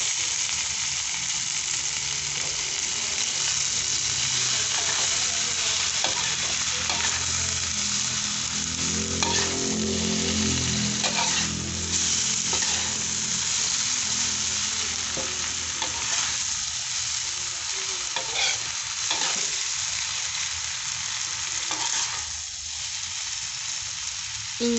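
Mushrooms sizzle steadily in a pan with wilted chili, the sizzle broad and constant throughout, with scraping and clacking bursts of stirring scattered across it.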